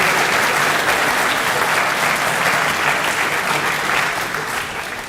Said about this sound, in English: Give those students a round of applause.